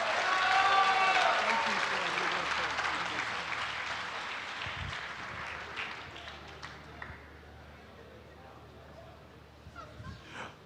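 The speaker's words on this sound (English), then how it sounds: "Please give this legend, Fuad Saliba, a huge round of applause" Crowd at an IRONMAN 70.3 Middle East Championship event in Bahrain applauds a 79-year-old athlete, clapping loudest at the start and gradually fading, with scattered cheers and a voice near the end.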